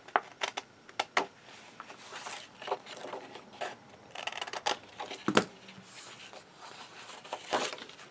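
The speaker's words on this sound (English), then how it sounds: "And now we're just going to trim that off." Scissors trim paper for a handmade flip book, giving a series of short, quiet snips and rustles with small pauses between cuts, close up and with no talk over them.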